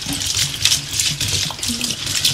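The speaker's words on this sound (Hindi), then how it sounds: "और ये मैं इसके अंदर पानी मिला लूँ।" Cold water pours from a tap over freshly drained spaghetti in a home kitchen, a close, continuous gushing and splashing that varies slightly as the stream shifts, with no talking.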